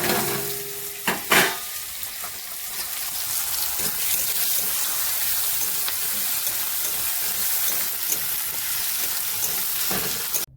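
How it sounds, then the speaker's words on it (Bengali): Chopped tomato and onion fry in oil with a steady, moderately loud hiss and crackle, opening with a couple of sharper clatters as they hit the pan. "এবারে আমি আস্তে আস্তে টমেটো পেঁয়াজ কাটা আছে দিয়ে দেবো তেলের মধ্যে।"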